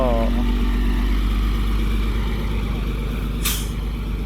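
A dump truck with its muffler removed gives a loud, constant, deep engine rumble, broken near the end by one sharp burst of air-brake hiss.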